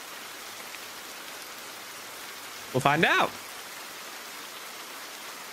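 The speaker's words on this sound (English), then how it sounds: "It's raining heavily." Steady, even rain hiss from heavy rain in the horror video game The Bathhouse Restored fills the background, with a brief spoken phrase rising over it midway.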